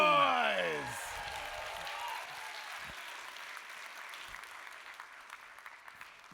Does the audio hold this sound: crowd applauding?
yes